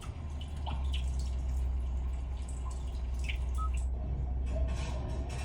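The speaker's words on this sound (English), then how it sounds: "rainy day" Rainy-day nature soundscape from the cabin speakers of a 2020 Hyundai Palisade Calligraphy Limited: a steady hiss of rain with scattered close drips and droplets, even and continuous, no voices.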